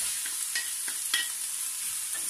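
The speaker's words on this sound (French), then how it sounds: "Et ensuite on va venir cuire le bœuf et les oignons" Beef and onions fry in olive oil in a pan. A steady sizzle is broken by several scrapes and stirs, close up, with no voices.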